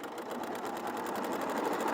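A sewing machine stitches along a cushion's short edge, a steady fast mechanical whirring with an even rhythmic clatter, close and continuous, no talking.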